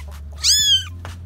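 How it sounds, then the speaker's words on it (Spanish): A single clear kitten meow, close and fairly loud, with brief soft rustles before and after it and a steady low hum underneath. No voices. "Los gatitos."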